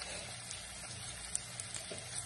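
Pork adobo with liver fries in a pan, oil spattering in a steady, close hiss broken by small sharp pops and crackles.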